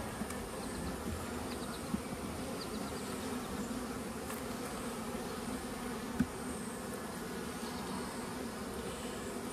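Honeybees buzzing steadily around an open hive during an early-season inspection of colonies with brood, pollen and honey frames, a continuous close drone with a few faint clicks and no talk.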